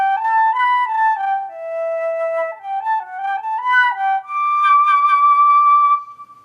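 Solo flute played on the SWAM virtual instrument with key noise switched off, carrying a smooth melodic line of sustained breathy tones that step between notes, ending in a long held pitch before fading.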